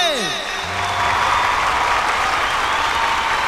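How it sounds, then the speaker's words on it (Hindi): Loud, dense audience applause at a Bhojpuri singing reality show, swelling in after a brief sung phrase and holding steady for a few seconds. "जोरदार ताली से स्वागत करे के अपने भगवान बिरसा के धरती रांची के रहे वाली रीमा वर्मा के"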